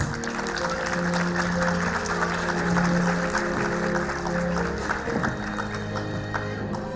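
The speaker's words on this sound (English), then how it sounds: "Let's welcome them with applause, please," Parents at a school annual day applaud as young children walk on stage, scattered steady clapping running beneath sustained stage music, moderately loud throughout.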